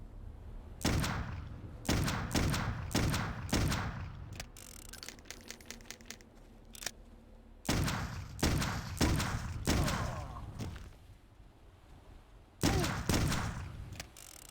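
Gunfire in the video game Clive Barker's Undying: loud bursts of close booming shots with ringing tails, several firing in quick runs, broken by a pause with softer rapid clicks, then more heavy volleys.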